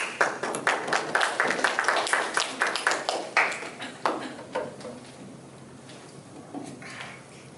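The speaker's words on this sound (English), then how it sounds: "Let's give Fujii a round of applause." Applause from the audience at a student council presidential election, heard as a run of distinct, fairly sparse claps in the first few seconds that thin out toward the end.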